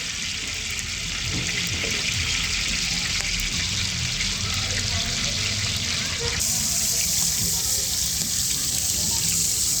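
Water pours into a large pot for a 10 kg batch of Andhra chicken dum biryani, a continuous rushing splash that shifts in tone partway through, with faint voices underneath.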